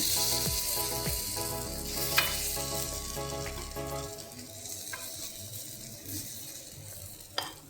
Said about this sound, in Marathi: बॅटर घालूया. आता आपल्याला सगळं असं घालून घ्यायचं आहे.